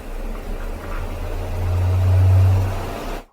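A small DC motor driven by PWM through a MOSFET gives off a steady low electrical hum that swells a little louder midway and then cuts off abruptly at the end, with no talking.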